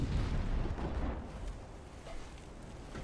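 Warship guns firing in the naval combat game Ultimate Admiral Dreadnoughts, a continuous low rumbling barrage of booms that stays loud at first and then eases slightly, with no voices over it.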